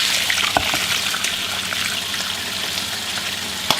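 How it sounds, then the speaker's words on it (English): Broth simmers in a lidded pot on a stove, giving a steady, close hiss and gentle bubbling with occasional small pops. "So put this on the stove, and we're going to let it simmer in here for a couple of hours"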